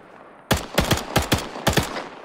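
Sharp, close gunshots in a military video game crack out in several quick bursts of two or three rounds, each with a short echoing tail.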